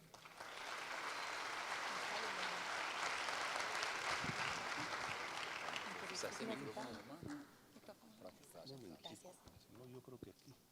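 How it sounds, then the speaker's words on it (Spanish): An auditorium audience gives a loud, sustained round of applause to welcome a guest lecturer, fading after about seven seconds as a few voices begin talking. "Por favor, recibamos con un fuerte aplauso a nuestro invitado"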